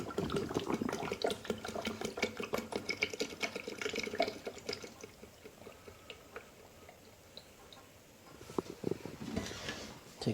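Clean water runs and splashes steadily into an O-Cedar RinseClean spin mop bucket, a dense gurgling pour that eases midway, then picks back up, with no talking.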